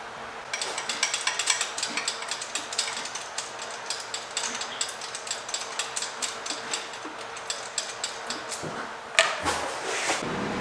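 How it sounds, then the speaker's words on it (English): A ratchet wrench cranks spark plugs out of a turbo LS-swapped Mustang engine, its rapid clicking pawl bursts repeating in quick strokes, close and clear, with a brief clunk near the end. "So pull all these plugs and we'll gap them."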